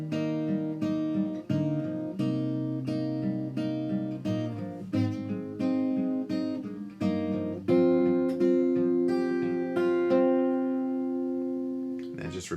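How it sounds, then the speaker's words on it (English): Light finger picking on an acoustic guitar, a worship song arrangement; clean plucked notes ring out in a steady, repeating pattern at moderate volume, walking down through chords without voices. "We're going to start with some light finger picking."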